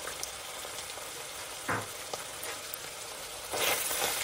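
Minced meat fries in a pan with garlic added near the end, giving a steady, close sizzle with a couple of brief louder crackling bursts.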